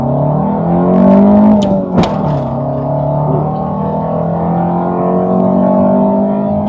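A Honda CR-V (RD4) fitted with an AWD TSX powertrain accelerates hard on a timed run. The engine drones loud and close in a steady, slowly rising tone, with one brief sharp knock partway through.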